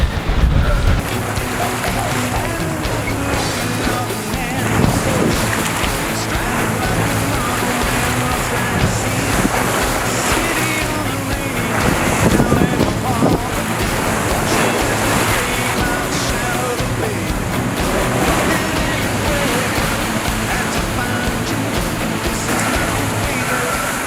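Steady wind rushes over open ocean aboard a sailboat under sail, with breaking swell and hull wash continuous and loud throughout, some buffeting on the microphone and faint voices mixed in.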